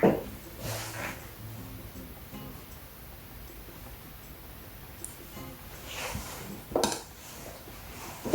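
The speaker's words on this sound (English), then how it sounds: "And then scrape some off the bottom." A utensil scrapes creme patissiere custard off the bottom of a pot, giving soft, faint scraping with a few louder clinks near the start and end over a quiet background hiss.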